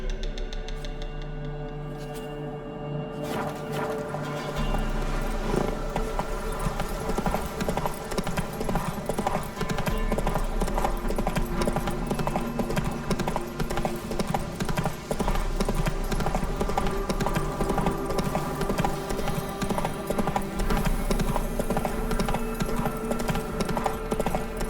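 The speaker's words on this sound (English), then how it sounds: "Whoa there, Roach." Horse hooves clip-clop steadily at a gallop in The Witcher 3 video game, a continuous rhythmic beat beneath a loud, dense orchestral game soundtrack, with a faint whinny possible.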